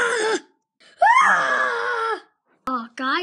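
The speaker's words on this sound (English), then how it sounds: "did anyone just hear a high-pitched, annoying scream?" A voice lets out high-pitched screams in bursts, a short cry then a long wavering shriek, followed by two more sharp shouts, loud and close.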